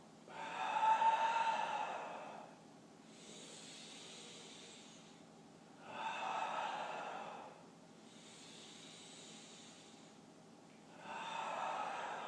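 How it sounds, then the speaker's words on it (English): Slow, deliberate breaths during a yoga spine warm-up on hands and knees, two full exhale–inhale cycles of close, airy breathing in a quiet room, each breath swelling and fading, with no talking. "exhale as you go down and inhale as you come up"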